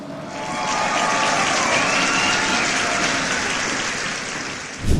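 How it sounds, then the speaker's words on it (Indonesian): An audience claps steadily for several seconds after a presentation, a dense even patter of applause that fades slightly near the end. "kita beri tepuk tangan"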